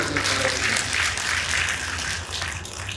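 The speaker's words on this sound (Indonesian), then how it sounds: "Tepuk tangan juga buat Kota Kupang." A crowd at a Waisak Buddhist gathering attended by a governor claps for the city of Kupang, a full, steady burst of applause that fades a little near the end.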